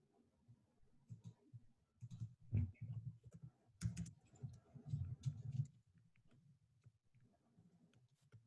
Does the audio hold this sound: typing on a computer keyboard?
yes